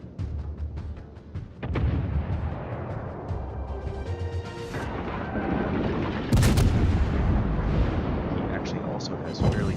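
Naval gunfire in the World of Warships video game, heavy shells firing and booming over continuous rumble and game effects, with a voice talking through most of it.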